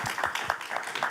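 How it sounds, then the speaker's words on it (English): Small audience giving a brief round of applause for a panel at an academic symposium, light scattered claps, fairly faint and short. "So a small applause for our little panel."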